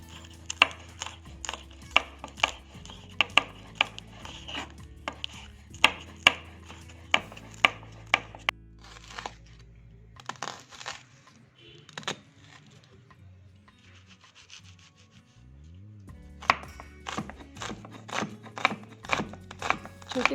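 A knife chops green chillies finely on a chopping board in quick, sharp, evenly spaced taps, close and crisp, pausing midway for a few scattered knocks before the rapid rhythm resumes.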